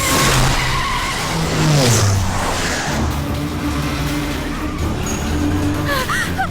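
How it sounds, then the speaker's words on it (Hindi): A car in an action movie scene screeches off with tires skidding and squealing, engine revving loudly as it pulls away, with shouting voices in the mix. "चल चल चल, गाड़ी निकल"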